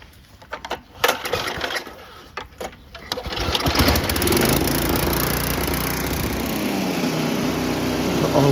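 A Craftsman snowblower with a freshly welded auger housing starts up after a few seconds of clunks and knocks. Its engine then roars steadily and loudly while the auger turns without touching the ground.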